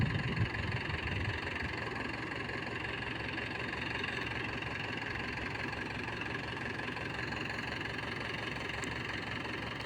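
A tractor engine idles steadily nearby while grain is poured into it, a continuous loud rumbling drone with an even knocking rhythm throughout.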